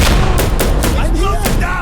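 Dense gunfire and a grenade blast in the tactical shooter Insurgency Sandstorm during a co-op checkpoint match: loud, close, overlapping sharp bangs and booms repeat rapidly throughout.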